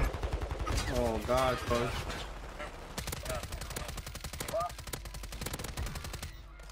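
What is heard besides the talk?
gunfire from the video game Warzone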